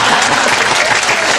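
Loud, dense applause fills a stand-up comedy room, a steady wash of many hands clapping at once with no gaps and no voices over it.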